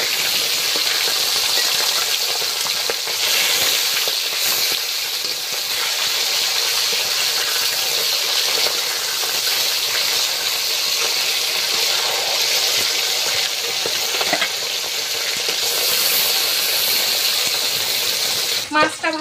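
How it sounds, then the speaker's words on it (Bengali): Fish frying in hot oil in a home kitchen, a steady, close, dense sizzle with crackles that runs without a break, joined near the end by a brief clatter. "মাছটা ভাজা হয়ে গিয়েছে"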